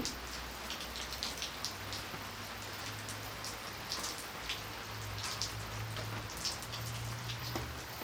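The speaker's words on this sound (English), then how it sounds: "I'm just going to start with a little bit and just do a light drizzle." Water is poured as a light drizzle over a model city, a steady soft patter of many small drops spattering across surfaces, even and alone without voices.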